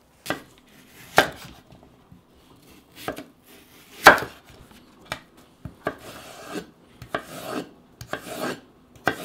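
A knife chops fresh cucumber on a cutting board while preparing lobster gimbap, giving sharp, distinct knocks at irregular intervals alongside softer scraping and slicing strokes, close and fairly loud in an otherwise quiet kitchen.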